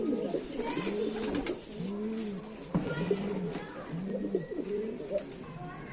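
Teddy pigeons coo in repeated soft, rolling phrases close by, with someone talking over and between the calls.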